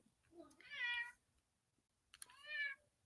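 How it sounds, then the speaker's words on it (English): A pet cat lets out two loud, drawn-out meows, the first a little longer than the second, separated by a pause, with no talking. "I don't know if you can hear the cat"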